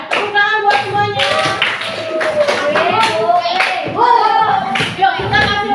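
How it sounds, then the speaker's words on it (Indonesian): Children in a sixth-grade Indonesian civics class clapping hands together, a dense, loud round of applause throughout with voices mixed in. "Ya, tepuk tangan buat semuanya."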